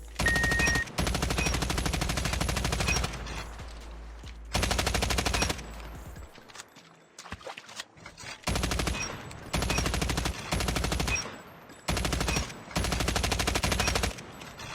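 Rapid automatic gunfire from a video game aim trainer during jump-shot practice, fired in repeated loud bursts of about a second or two separated by short pauses, with no talking.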